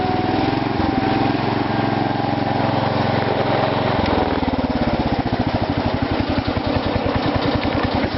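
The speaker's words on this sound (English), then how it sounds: "This thing idles too rich also." Carburetted small engine idling too rich on a faulty carb idle circuit, a steady close-up rumble that settles after a few seconds into a distinct uneven, lumpy pulsing beat, running alone without talk.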